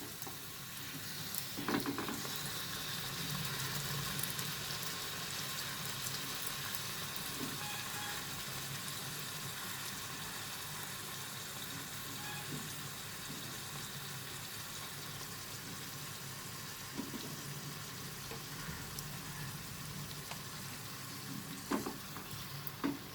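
Coconut kachoris deep-frying in hot oil give a steady, close sizzle for the whole stretch, with a few soft knocks from the pan or utensil.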